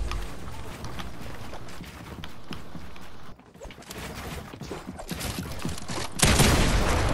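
Video game gunfire, volleys of shots in quick succession throughout, one brief pause midway and a loud burst near the end.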